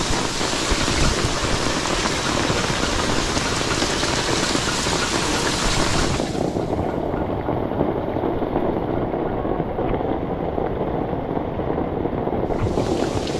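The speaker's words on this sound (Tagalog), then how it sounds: "ambon man" Light drizzle falls steadily outdoors, a dense, even hiss of rain on surfaces that continues throughout with no talk, shifting slightly in tone partway through.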